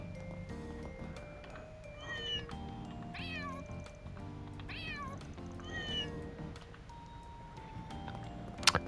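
Several cats meow in Trails beyond the Horizon, a video game, with rising and falling cries repeated over a steady bed of soft game music and a brief sharp chime near the end.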